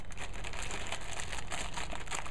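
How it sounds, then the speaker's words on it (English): A plastic bag is crinkled and wrapped around UCO Storm Proof matches, a continuous close rustling and crackling with no pauses. "since they came packaged in this plastic bag, I'm actually going to leave them in the plastic like it came. I'm going to wrap them up."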